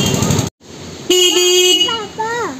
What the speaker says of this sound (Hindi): पापा हॉर्न बजाओ, मम्मी को बुलाओ, हॉर्न बजाओ।